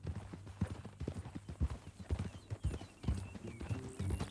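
A horse's hooves clip-clop in Red Dead Redemption 2 at a steady walking rhythm on the way to a ranch, close and fairly quiet, with faint background sounds and no speech over the hoofbeats.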